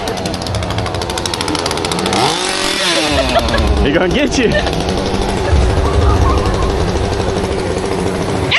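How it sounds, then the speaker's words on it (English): Chainsaw revved by a scare actor in a Kings Island Halloween haunt scare zone, loud rattling engine bursts close by, rising and falling over several seconds while people talk and shout nearby. "Uh-oh, there's your chainsaw."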